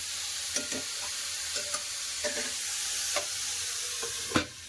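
Beetroot frying in oil with onion and a little turmeric under a lid, giving a steady low sizzle broken by a few soft stirring clicks and one sharper knock near the end.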